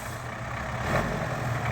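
A GAZ truck at a wheat harvest, its engine freshly rebuilt and the truck repainted, runs with a steady low rumble at close range, with no voices over it.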